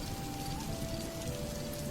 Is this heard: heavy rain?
yes